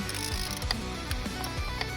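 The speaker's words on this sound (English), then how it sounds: "Once they're all loose, ratchet them off." Ratchet clicking as head bolts are loosened on a Powerstroke 6.0 diesel engine, a close steady run of pawl clicks in bursts with rhythmic falling strokes, no talking.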